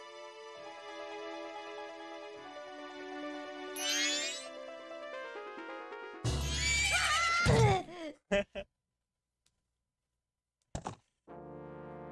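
A horse neighs in the video game Zelda: Majora's Mask, a loud rising whinny over layered game music, followed by a few short clipped effects and a near-silent gap.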